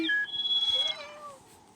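A cat gives a single clear, close meow, drawn out and falling slightly in pitch over under two seconds, with no talking around it.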